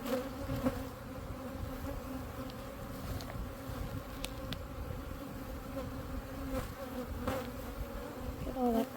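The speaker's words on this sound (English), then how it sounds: "You kind of got bees everywhere." A honey bee swarm hums around a hive box outdoors, a continuous dense buzz with individual bees flying past, close and steady throughout.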